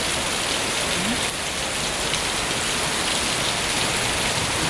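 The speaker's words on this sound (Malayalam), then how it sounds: "എന്താ മഴ." Heavy rain pours steadily and densely onto surfaces, a constant close hiss without breaks that stays loud and unchanging throughout.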